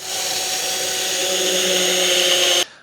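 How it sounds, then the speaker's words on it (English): Power drill boring a pilot hole through a wood block and shelf, a loud, steady high-pitched whine held for over two seconds before cutting off abruptly, close to the mic. "you want to drill a pilot hole and make sure it goes all the way through this block and all the way through the shelf also"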